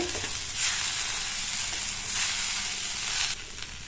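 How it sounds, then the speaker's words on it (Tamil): Beetroot and moong dal being stirred in a hot pan with salt for a beetroot poriyal, a continuous soft sizzle with two swells of louder scraping and tossing. "எல்லாம் ஒன்னா மிக்ஸ் ஆகிற மாதிரி நல்லா ஒரு தடவை கலந்து கொடுத்துட்டு"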